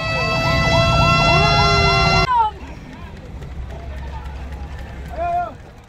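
An ambulance siren at an Independence Day parade in Samarinda, Indonesia, wailing loud and close with a rapid rising-falling pattern. It cuts off abruptly, then brief siren chirps return over street noise and a narrator's voice.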